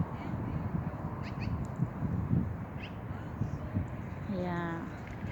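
Magpies call outdoors at sunset, a few harsh chattering notes scattered over a steady windy background, with a clearer rising series of calls near the end; moderately distant and fairly faint.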